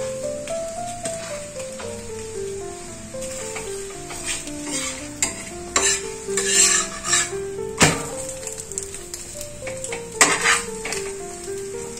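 An egg fries in white oil in a pan for a chicken roll, a soft sizzle under clinking and scraping of a utensil against the pan, with background music playing and no speech.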